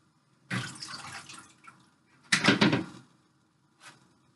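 Two bursts of water splashing and pouring as blanched grape leaves are drained, as if tipped through a strainer, followed by a brief faint clatter, with quiet between them.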